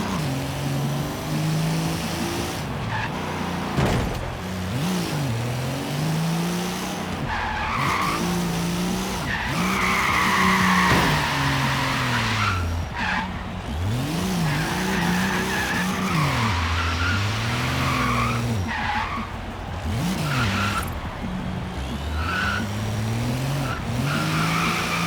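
A heavy Hummer in the racing game Forza Horizon 3 squeals its tires again and again under a loud, revving engine, with close, continuous skids for about twenty-five seconds.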